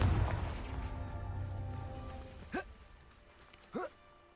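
Spell blasts in a video game, two short sharp bursts with a brief rising swoop, over a fading rumble at the start and quiet background.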